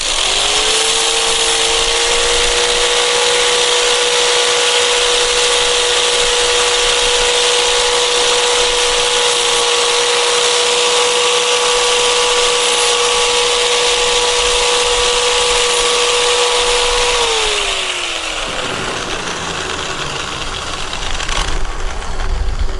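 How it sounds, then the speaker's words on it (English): A power tool deburrs a cut metal part for a mower fender on a Big Dog Alpha or Hustler Raptor SD, giving a loud, steady high whine that holds for about eighteen seconds before winding down, with no voices. "we're going to deburr it, because you don't want that thing cutting into your plastic"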